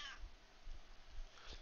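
A house cat meowing in the background, two short, fairly faint meows heard at the start and near the end amid quiet room noise.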